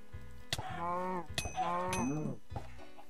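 Two drawn-out cow moos in Minecraft's Wynncraft server, loud and close, separated by sharp clicks, with a steady low tone underneath.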